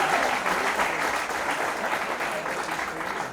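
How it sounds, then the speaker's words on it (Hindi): An audience at a special film screening of Blurr bursts into applause, a dense continuous burst of clapping that stays loud throughout. "सो तालियां हो जाए एक बार के लिए।"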